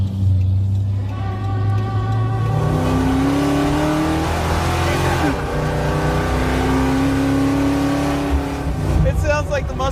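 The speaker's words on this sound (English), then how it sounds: "It sounds like the muscle truck." A drag-racing truck engine, the Ugly Truckling dragster, revs hard and loud close by, its pitch climbing repeatedly through long sustained pulls, with people talking underneath.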